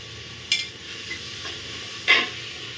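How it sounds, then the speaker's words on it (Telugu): Brinjal and fried onions are stirred in a pan, two distinct spatula scrapes over a quiet background sizzle. "వంకాయలు వేసుకుంటున్నాను. సరే కలుపుకుందాం."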